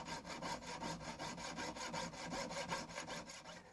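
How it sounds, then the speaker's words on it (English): A small saw cuts through a silver jewellery band, a rapid, even back-and-forth rasping of about ten strokes per second, steady and close for the whole stretch with no talking. "We now have to cut this piece of metal so to solder it to this piece."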